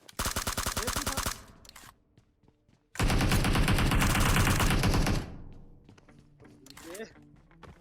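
Bursts of automatic gunfire in PUBG on the Erangel map, a dense rapid volley followed by a longer sustained burst, loud and close, with quieter shots trailing off afterward.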